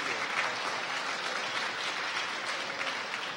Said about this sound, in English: Let's give him a good applause